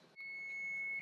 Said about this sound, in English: Okay, the timer is going off.